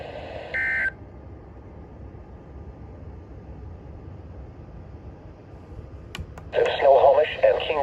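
Emergency Alert System weekly test tones on a radio broadcast: a short, loud, steady electronic tone, a quiet hiss, then another loud warbling tone burst near the end.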